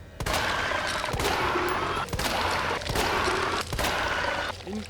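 Rapid gunfire shooting zombies in a video game, dense bursts of shots in close succession with sharp louder cracks every second or so, loud and steady with no talking.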